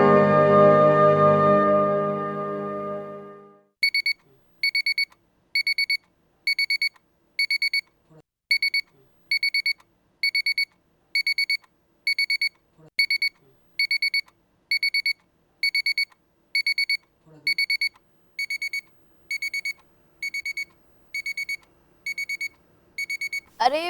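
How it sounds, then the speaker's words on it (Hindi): An alarm clock rings in repeated short bursts of high beeping, evenly spaced and loud, going on for many seconds alone after a stretch of music fades out. "अरे बंद कीजिए ना अलार्म।"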